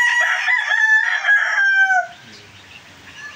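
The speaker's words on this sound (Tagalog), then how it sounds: "Mga inahin." A rooster crows loudly and close, a long strained cock-a-doodle-doo lasting about two seconds, then gives way to quieter clucking and farmyard background.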